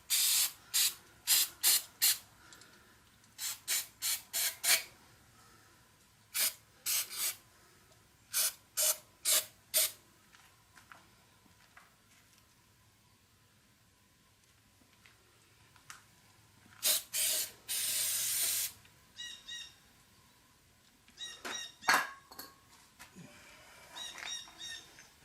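Cleaner sprayed onto the throttle body of a 2012 Chevrolet Impala in a string of short, sharp hissing bursts, then one longer sustained spray and a few scattered shorter ones, close up with no talking.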